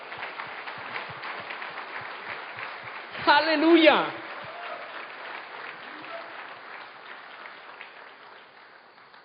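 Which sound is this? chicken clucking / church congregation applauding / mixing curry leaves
church congregation applauding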